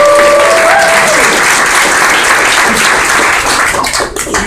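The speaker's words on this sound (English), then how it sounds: "give her a round of applause, please." Dense, loud applause from an audience fills the room continuously, a steady wash of many hands clapping with a brief whistle-like tone early on, easing slightly at the very end.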